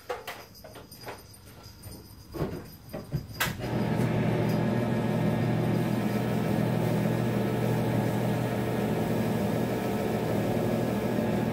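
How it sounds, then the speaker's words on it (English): An old electric can opener switches on after a few clicks and handling noises, then runs with a steady loud motor whir for several seconds, alone. "Let's go ahead and plug in this old"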